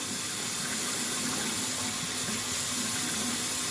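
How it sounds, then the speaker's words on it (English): Cold tap water runs steadily from a faucet into a sink for rinsing the face during a shave, a close, continuous hiss and splash with no talking. "we'll rinse off the face one more time with a little bit of cold water"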